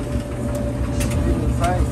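A Maytag 3000 series dryer, repaired after failing to spin, runs with its drum turning in a steady low hum and rumble at close range, with faint clicks, and no talking is heard.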